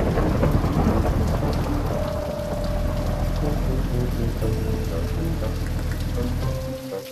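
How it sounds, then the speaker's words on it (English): Heavy rain pours steadily on a surface with rolling thunder rumbling underneath, loud and continuous throughout, set in a children's toy-vehicle cartoon scene. "Look how hard it's raining."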